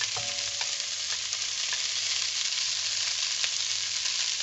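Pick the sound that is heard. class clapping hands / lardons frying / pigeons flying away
lardons frying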